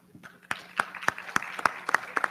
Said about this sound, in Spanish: Con un fuerte aplauso, claro.